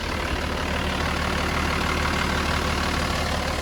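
A 1989 Toyota Land Cruiser HJ62 turbo diesel idles steadily, a constant low rumbling drone that holds even and unbroken from start to finish with no other sounds.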